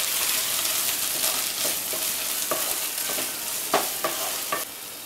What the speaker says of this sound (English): Now add our onion, tomato and cashew nut paste, fry it.